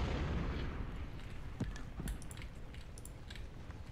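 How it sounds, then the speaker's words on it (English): Cannon artillery fire in the Civil War strategy game Ultimate General: Civil War, a dense rumble of distant booms with a few sharper reports standing out near the middle, continuous throughout. "Oh, cannons!"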